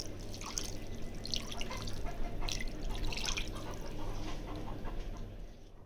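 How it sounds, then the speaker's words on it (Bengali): Water is poured into a pan of small bele fish with chopped coriander leaves, making soft splashing and dripping trickles over a low steady background hum, close and fairly quiet, with no one talking. "পরিমাণ মতো পানি দিয়ে দেবো"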